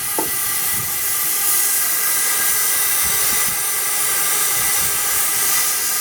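Steam blows off at 200 psi from a 6-inch Burrell Gold Medal traction engine, a loud continuous hiss that holds steady throughout with faint mechanical knocks beneath it.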